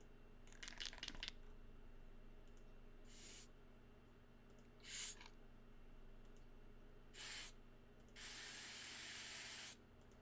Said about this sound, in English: That's a spray can.